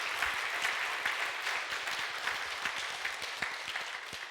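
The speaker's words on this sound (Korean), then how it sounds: "우리 감사의 마음을 담고 뜨겁게 박수 한번 하겠습니다" Congregation at a Sunday church service applauds warmly after a special musical performance, a steady dense wash of many hands clapping throughout, fairly distant and even.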